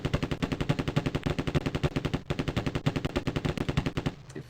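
Rapid automatic gunfire in The Terminator: Future Shock video game, a steady stream of fast, evenly spaced shots aimed at the moon, loud and continuous for about four seconds before stopping, with no talk.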